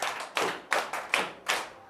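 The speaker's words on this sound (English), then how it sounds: "Clap for him" Several sharp hand claps from children in a Ghanaian classroom, in an uneven sequence, close and fairly loud, like a small group clapping briefly.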